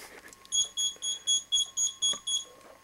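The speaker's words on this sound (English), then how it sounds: "I have a call on my cell phone." A cell phone rings on a television interview set, a regular series of about eight short electronic beeping tones, fairly loud and alone, with no talk.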